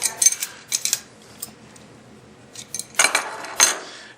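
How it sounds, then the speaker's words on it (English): Metal wrench tightening fittings on a CAT CATalyzer quad valve, heard as a few sharp metallic clinks and scrapes in short clusters, close and fairly loud, with quiet pauses between. "take our wrench and tighten that back up"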